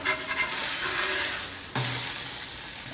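Meat sizzling on a Blackstone griddle right after being flipped, a loud continuous hissing fry with a sharp scrape and renewed burst of sizzle midway.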